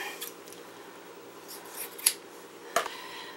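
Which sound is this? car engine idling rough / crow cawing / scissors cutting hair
scissors cutting hair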